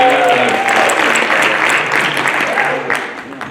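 Audience at a high school future freshman night applauding loudly and steadily, a dense wash of clapping from a crowd that tapers slightly toward the end.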